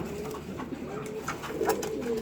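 Imported ringed pigeons coo in soft, repeated low calls at close range, with a steady murmur of background noise and no clear talk.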